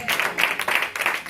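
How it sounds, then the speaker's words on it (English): A church congregation claps hands in a quick rhythmic pattern, four bursts of clapping at an even tempo, close and moderately loud. "Come on, clap your hands."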